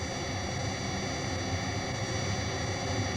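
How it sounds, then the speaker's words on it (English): Jet noise produced on a synthesizer: a steady, broad roaring rush with a low rumble underneath, unchanging in level for the whole stretch, with no voices. "Let's listen to how this jet noise can be altered when parts of it are filtered or removed."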